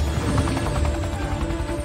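A helicopter in the 2016 film Captain America: Civil War thumps with fast, loud rotor chop, close and steady, with no talking.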